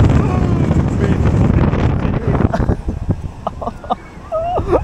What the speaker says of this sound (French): Oh le vent, il fait bouger les trucs